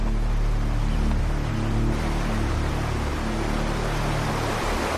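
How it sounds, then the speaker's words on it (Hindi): Steady broadband rush of moving water, continuous and fairly loud throughout with no pauses, heard alone without any voices. "इस बहते पानी को देख रहे हैं राजा?"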